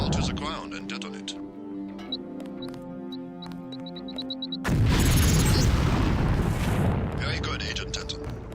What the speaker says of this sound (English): the lamp will fall to the ground and detonate